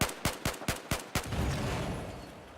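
SG553 assault rifle in Battlefield 4 firing single shots: six sharp evenly spaced reports about a fifth of a second apart, the last one trailing into a long rumbling echo.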